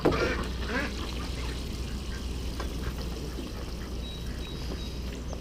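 Farm ducks being fed minnows at a freshwater farm quack in a busy, noisy flock, with splashing water and steady outdoor background noise throughout.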